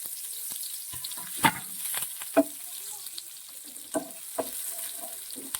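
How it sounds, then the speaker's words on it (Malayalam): Shallots, curry leaves and dried chili spluttering in tempering oil for a curry, a light continuous sizzle broken by sharp pops and crackles, close and moderately quiet with no speech. "ഇത് താളിക്ക് നന്നായിട്ട് മൂക്കണം കേട്ടോ"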